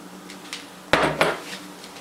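Chicken breast pieces shaken and stirred in a cast iron pan, giving a few sharp metallic clanks and scrapes, two louder knocks in the middle over a quiet background.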